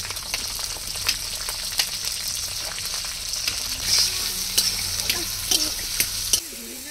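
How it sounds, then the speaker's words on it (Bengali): Chopped onions frying in hot oil with whole cumin, bay leaves, green chillies and tomato: a steady close sizzle with repeated scraping and clinking of a stirring spoon against the pan. "কেটে রাখা পেঁয়াজ দিয়ে দেবো।"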